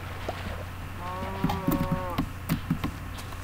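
Several cows moo in a Minecraft world, a short drawn-out low call followed by a cluster of softer grunting moos, fairly faint and with no speech over them.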